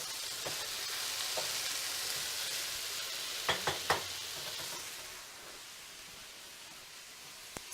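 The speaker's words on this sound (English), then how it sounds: "I'm just giving this a quick stir here." Kale and asparagus sizzle in a pan with squeezed lemon juice, a steady close hiss broken by a short burst of spoon-against-pan stirring clicks near the middle before easing back down.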